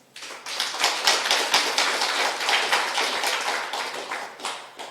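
A church congregation applauding a family during a Sunday service, a burst of many hands clapping that swells quickly, holds with crisp individual claps, then tapers slightly.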